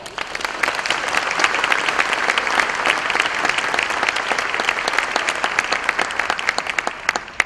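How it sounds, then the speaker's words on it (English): Banquet guests at a community dinner for the Moton Museum break into a full, sustained round of applause, dense individual claps audible within a loud, steady wash. "Let us celebrate something that is truly positive by giving ourselves a round of applause."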